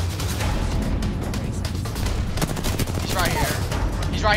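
Rapid gunfire bursts in the Apex Legends video game, loud and continuous throughout, mixed with players talking over the shooting.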